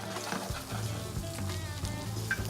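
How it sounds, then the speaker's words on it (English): Bacon spits and crackles in its own fat in a frying pan, a steady close sizzle running throughout with a low rhythmic hum beneath it. "From there, it's going straight into the frying pan."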